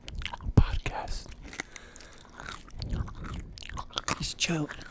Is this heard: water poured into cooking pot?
no